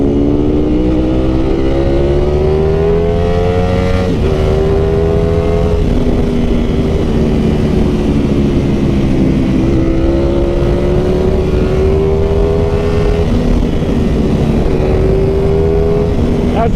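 A Ducati Panigale motorcycle, a 1299 S Anniversario or V4 Speciale, pulls hard as the throttle rolls on, its loud engine note climbing and dipping through several surges close by for the whole stretch.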